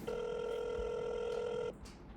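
A telephone ringing tone plays as a call is placed from CRM software, a steady electronic ring lasting under two seconds before cutting off to quiet room noise.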